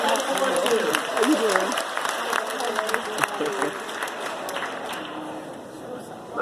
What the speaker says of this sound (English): give all these winners a round of applause